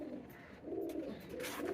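Soft, low pigeon cooing from loft birds after feeding, repeated coos fairly faint against a quiet background.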